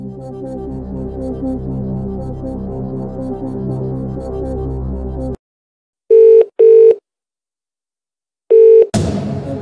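Telephone dialing in the Who Wants to Be a Millionaire video game: a stretch of music cuts out, then three loud, clear dial tones sound alone in silence before a burst of noise follows.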